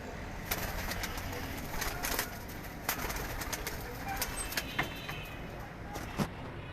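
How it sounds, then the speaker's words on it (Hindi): Ababil breed pigeons coo softly in a loft, low, faint murmuring calls under a noisy background with occasional sharp clicks and distant traffic. "उनके घर की अबाबील ब्रीड के ये जो कबूतर हैं"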